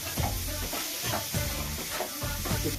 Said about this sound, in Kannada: ಅದಾದ್ಮೇಲೆ ಕ್ಯಾರೆಟ್ ಹಾಕ್ಬಿಟ್ಟು ನೀಟಾಗಿ ಎಣ್ಣೆಯಲ್ಲಿ ಚೆನ್ನಾಗಿ ಫ್ರೈ ಮಾಡ್ತೀನಿ